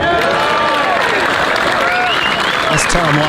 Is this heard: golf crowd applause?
yes